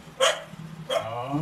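A dog at a family birthday gathering gives two short barks about half a second apart, close by, with voices murmuring in the background.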